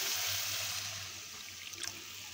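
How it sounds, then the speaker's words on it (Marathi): Water pours from a glass into a pot of moth beans being cooked for misal, a steady splashing trickle that fades into faint bubbling; no talking. "1 ग्लासभर पाणी टाकलं त्यामध्ये."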